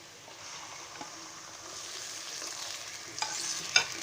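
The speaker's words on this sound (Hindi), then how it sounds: "और इसे अच्छी तरह से फ्राई कर लेंगे।" Half a kilo of mutton frying with onions in a pan gives a close, constant sizzle that slowly gets louder, with a few scraping strokes of a spoon and a sharp clink near the end.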